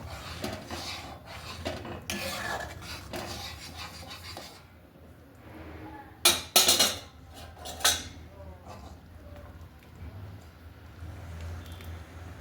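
A utensil scrapes and clatters against a pan while moong dal is stirred with garam masala and ghee, with a few sharp metallic knocks toward the middle.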